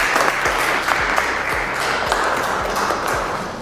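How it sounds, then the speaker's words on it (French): Audience applause at a training-course ceremony for mechanics completing a four-week diesel engine diagnostics course: steady, dense clapping fills the whole stretch at an even, moderately loud level, with scattered sharper individual claps standing out. "que vous applaudissiez fortement."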